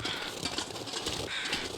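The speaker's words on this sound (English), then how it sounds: "There's some birds." Birds caw and call in a snowy wilderness in The Long Dark, faint cries over a steady rush of wind.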